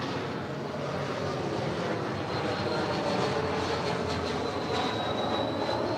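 A Delta Connection SkyWest Embraer E175 jet at LAX, its engines making a steady broad roar with a faint whine rising over it, sustained and fairly close, with no talk.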